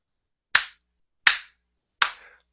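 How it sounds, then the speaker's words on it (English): Three slow, sharp claps ring out alone and evenly spaced, a sarcastic golf clap with long silent gaps between each crisp smack. "Golf clap"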